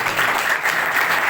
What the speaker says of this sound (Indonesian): Jadi kita berikan aplaus di kelompok 2.